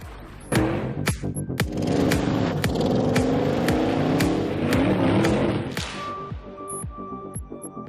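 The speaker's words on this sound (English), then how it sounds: "We are here on a climbing hill at our test site where we are recreating extreme situations in which we test the all-wheel drive." An Audi all-wheel-drive car strains on a steep test hill during extreme misuse testing, the engine revving hard and grinding with repeated sharp clicks and knocks from the drivetrain, loud and close.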